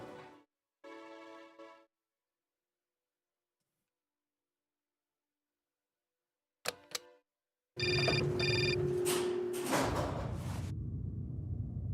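A mobile phone rings inside an older lawyer-themed game: two short, clean trilling bursts, a long silence, a quick chirp, then a louder ring that blends into a dense, noisy ambient rush lasting to the end.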